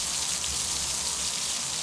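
Steady, broadband rush of a waterfall in the video game Ether One, a continuous hiss of falling water with no breaks, fairly loud and close, heard alone without talk.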